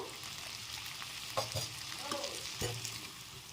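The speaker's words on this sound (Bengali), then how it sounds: "এখন আলুটা একটু নেড়েচেড়ে মিশিয়ে নিতে নিতে" Potatoes being stirred in a frying pan while cooking niramish aloo dum: a steady soft sizzle with a few brief scraping knocks from the spoon, no talking.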